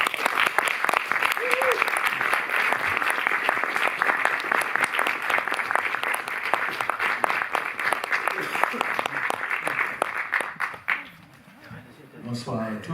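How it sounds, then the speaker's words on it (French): An audience applauds steadily for about ten seconds at a film screening at the Cinémathèque in Paris, a dense wash of clapping that fades out, followed by a quiet moment. "C'est Mark Rappaport, que je vous demande d'applaudir et d'accueillir."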